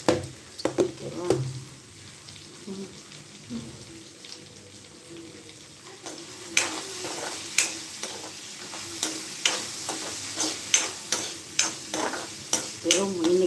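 Pieces of elephant foot yam fry in a pan for a Tamil-style roast, with a steady sizzle and repeated scraping stir strokes that grow busier and louder in the second half, close by and with no talk.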